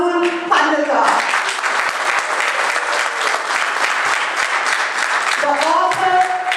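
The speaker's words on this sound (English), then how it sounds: "So please give me a hand and give an applause to Rahul Pandita," Sustained audience applause fills a clubhouse talk venue in Naperville, welcoming author Rahul Pandita to the stage; dense, steady clapping from a crowd, with brief talking at the start and end.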